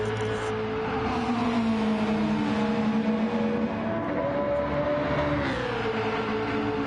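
GT3 race cars in a racing video game, engines droning steadily at high revs with a shifting pitch as one car spins its rear tyres, a continuous mechanical roar with no talk.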